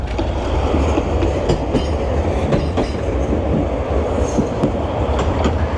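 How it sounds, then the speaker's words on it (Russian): A tram in Moscow rumbles along its rails up close, a steady low roar with rhythmic clicks of wheels over track joints. "Вон трамвай."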